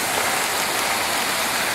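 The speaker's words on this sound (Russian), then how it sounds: "Смотрите, какой фонтан я нашел в Ливерпуле, полностью из пены." Foam fountain in Liverpool with bowls filling and overflowing, giving a steady, dense splashing wash like heavy rain that runs evenly through the whole stretch with no voices.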